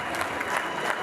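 A crowd at a community achievement celebration keeps clapping in a dense, even patter for about a second. The sound is fairly soft and somewhat distant, with no talking.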